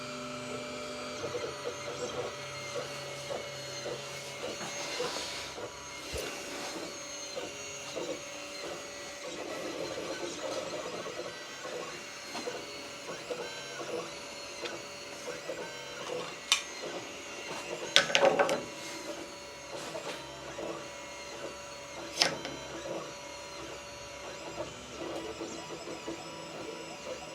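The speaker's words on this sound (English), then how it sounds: "Sorry about the noise. I've got a big extractor going on here to get rid of all the smelly," A big extractor fan runs while a laser burns a logo onto a mirror, giving a steady broadband whir with scattered clicks and faint mechanical ticks, moderately distant and without speech.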